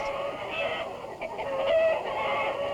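Hens cluck in a farm poultry house, several birds calling over each other in a busy, fairly close chorus of rising and falling clucks with no talking.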